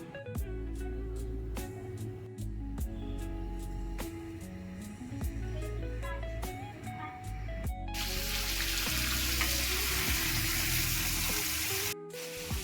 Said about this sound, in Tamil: 10 நிமிஷம் மீன் ஊறினதும் தோசைக்கல்ல எண்ணெய் விட்டு ஒரு 5 மினிட்ஸ் பொரிச்சு எடுத்துக்கலாம்.